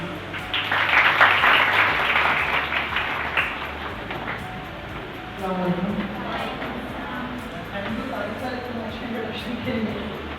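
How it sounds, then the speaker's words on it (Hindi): An audience claps at an indoor awareness session, a burst of applause that swells early and fades, followed by someone talking with scattered claps continuing beneath his voice. "बहुत सारी तालियाँ"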